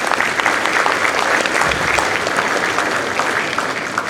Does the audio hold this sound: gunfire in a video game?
no